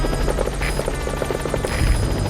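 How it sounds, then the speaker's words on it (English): The Pequod helicopter arrives in the video game Metal Gear Solid 5, its rotor chopping loudly and steadily throughout, close and unbroken. "This is helicopter Pequod. has I have arrived. arrived at marker."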